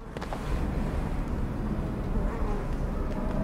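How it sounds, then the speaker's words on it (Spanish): Flies buzz in the underwater sci-fi horror game SOMA, a steady drone over a dim, noisy game ambience, continuous and fairly close. "¿Por qué hay moscas aquí,"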